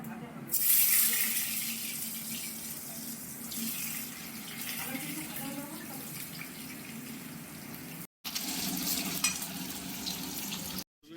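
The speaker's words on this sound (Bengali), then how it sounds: "আলু পাঁচফোড়ন আর তেজপাতা দিয়ে ভেজে নিতে হবে" Potatoes fry in oil with panch phoron and bay leaf, a steady soft sizzle, fairly faint and continuous, with a brief louder burst near the start, a voice murmuring faintly, and a short cut near the end.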